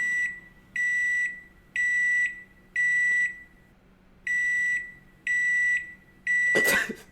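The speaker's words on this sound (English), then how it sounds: "you put something in the microwave for 5 minutes and you stand there watching your food" A microwave oven beeps seven times in a steady, evenly spaced series of loud, clear tones, alone in a quiet room, with a short burst of noise at the very end.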